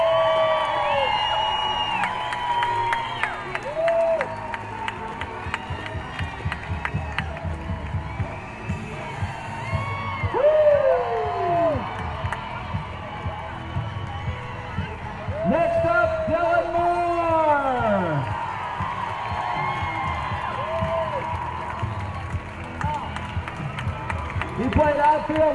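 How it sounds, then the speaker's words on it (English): Parade crowd cheering, clapping and whooping for a Little League team at the Petaluma National Little League parade, a steady roar of applause with voices and occasional louder swells throughout. "Let's wave those flags and cheer them on."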